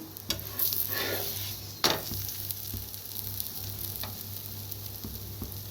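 Puran poli flatbread, made with wheat dough and oiled on both sides, fries on a hot pan with a soft steady sizzle, broken by a couple of sharp clacks as it is turned, and no voices.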